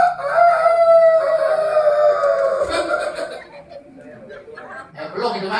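A human voice imitates a Bangkok rooster's crow, a drawn-out, strained call sustained for several seconds, loud and close, trailing off into fainter vocal sounds.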